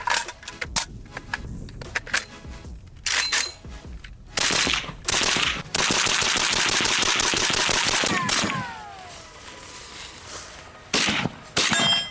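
A suppressed AK rifle fitted with a HUXWRX 7.62 Flow suppressor fires several loud bursts and strings of rapid shots, with short quiet gaps between volleys and a couple of sustained automatic runs, all close by.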